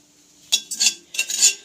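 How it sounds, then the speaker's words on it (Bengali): Salt and spices are stirred in a dry wok, giving a few quick scraping, clinking strokes of a metal spatula against the pan, close and crisp, with short pauses between them. "শুকনো কড়াইয়ে এভাবে নেড়ে নেবো"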